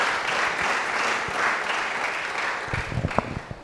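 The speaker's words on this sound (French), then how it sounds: "Acclamons pour l'ancien Martin." Applause from a church audience during a Sunday service, a sustained wash of clapping that thins out into a few scattered claps near the end.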